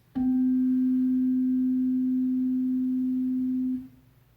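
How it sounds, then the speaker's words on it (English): A steady, pure tone from an open pipe sounding middle C at 256 hertz rings alone for several seconds at an even volume, then fades quickly away. "It's middle C, which is 256 hertz."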